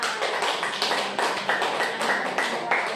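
A classroom group claps hands in loose, uneven bursts, the claps close and moderately loud, with a few faint voices mixed in.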